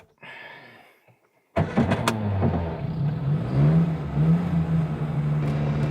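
An Austin A35 van engine cranks over with the choke out, catches after a second and a half, and settles into a loud, close, slightly uneven idle with small revs.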